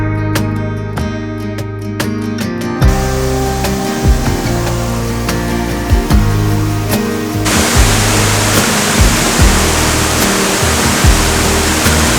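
A waterfall in a Kauai forest roars as a dense, steady broadband rush, loud and close, with soft clicks and shuffling over it and no talking.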